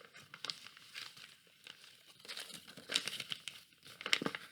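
Paper being folded for a honeycomb beehive craft crinkles and rustles softly at close range in short uneven bursts, with a couple of sharper crisp crackles, and no talking over it.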